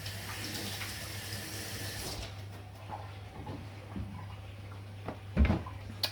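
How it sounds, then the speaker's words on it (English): Hands washed under a running kitchen tap, a steady close rush of water for about two seconds that then cuts off, followed by quieter handling noises and a brief knock near the end. "Okay, just wash my hands."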